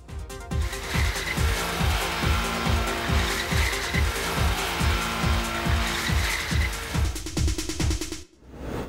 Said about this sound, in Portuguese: Demais esse Nissan 300ZX, hein?